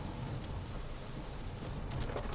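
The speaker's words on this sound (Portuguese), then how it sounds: "chovendo, chuva relativamente forte, com relâmpagos inclusive" Heavy rain pours steadily during a thunderstorm on the road to Maricá, Rio de Janeiro, under overcast skies over the mountains. It is a dense, continuous hiss close by with no speech.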